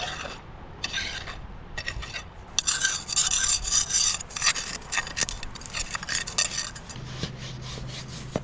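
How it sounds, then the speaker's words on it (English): Metal scraping tools rasp against rock in the bottom of a crevice while clearing gravel for gold panning, close, harsh gritty strokes in bursts that grow longer and denser, with no talking. "Now we pull out all the scraping tools and we clear the bottom really well."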